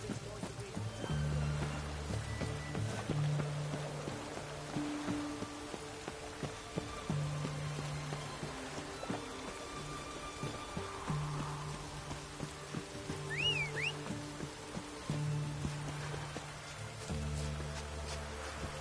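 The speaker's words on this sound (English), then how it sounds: "It's raining" Soft, steady rain falls in The Witcher 3, a faint hiss under low background music, with the occasional clop of a horse's hooves nearby.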